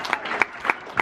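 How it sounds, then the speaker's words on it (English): A small cruise ship quiz audience applauds a winning team with short, scattered claps that rise and fade in brief bursts, fairly close and without talk. "Matt Quizzers, give him a round of applause."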